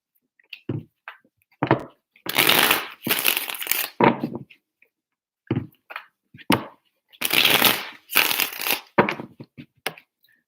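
Tarot cards being shuffled by hand in repeated crisp bursts of riffling and rustling, close and fairly loud, separated by short pauses with light handling noise.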